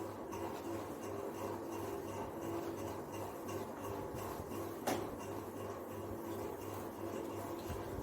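Faint, steady scraping of chalk being rubbed off a classroom blackboard with a duster, a continuous rasp in a quiet room with one brief knock midway.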